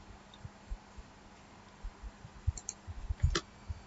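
A password being typed on a keyboard at an Ubuntu Linux login and then the enter key pressed, a few faint scattered key clicks with pauses, ending in a couple of sharper, closer taps.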